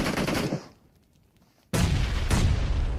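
Grenade blasts in the PUBG Mobile game: a loud rumbling burst, a short quiet gap, then another heavy sustained explosion roar, close and dominant, with no voices.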